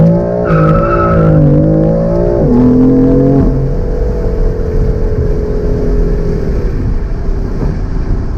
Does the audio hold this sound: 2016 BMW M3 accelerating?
yes